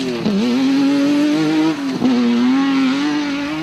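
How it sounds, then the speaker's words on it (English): Century Property Development Racing CR1 4x4 race car driving at speed, its engine holding a loud, steady high drone with two brief dips in pitch, as if lifting off or shifting, then pulling hard again. "Mark Corbett and Rudy Balzer set the fastest time in the stubby-looking Century Property Development Racing CR1 4x4"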